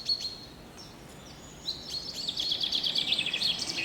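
Forest birds in the video game A Quiet Path chirp and trill in quick overlapping high calls, growing busier and louder toward the end against a faint ambient background.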